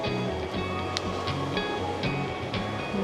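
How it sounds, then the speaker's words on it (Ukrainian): Sea waves washing onto the shore at Maly Fontan in Odesa, a steady surf hiss with soft rhythmic pulses of water at moderate loudness, no talk. "Море, щастя, хвилі, все це заспокоює однозначно"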